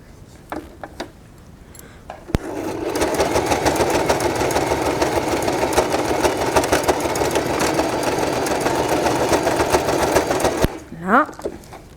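An electric sewing machine stitches a fabric face mask in one long, steady run of rapid mechanical chatter lasting about eight seconds, with quiet handling sounds before and after.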